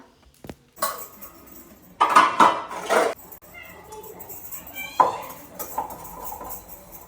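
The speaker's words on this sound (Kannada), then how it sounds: "ಸ್ವಲ್ಪ ಪಾತ್ರೆ ಇತ್ತು, ಬೆಳಗ್ತಾ ಇದ್ದೀನಿ" Kitchen vessels are scrubbed and washed at a sink, with irregular bursts of metallic clinking, scraping and clattering up close, separated by quieter stretches.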